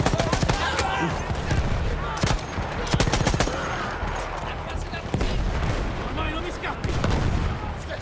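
Enemy gunfire from Austro-Hungarian forces in the World War I shooter Battlefield 1, dense bursts of rifle and machine-gun shots crackling continuously with occasional heavier booms, mixed with battlefield noise and voices.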